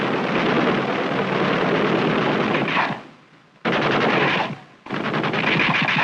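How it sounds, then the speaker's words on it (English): Two fixed-mount .30 caliber machine guns on the skids of an early UH-1A Huey helicopter fire in long, dense rattling bursts. A sustained burst is followed by a short pause, then two more bursts, loud and close. "The UH-1A's two fixed-mount 30 caliber machine guns are mounted forward on the skids, one on each side."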